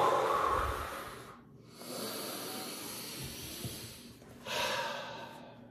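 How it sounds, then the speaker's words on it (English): Heavy, troubled breathing from an excited person, loud close-up breaths and hissing exhales with a snort-like intake, and a brief pause partway through. "when I talk and get excited, breathing's a little bit more troubled"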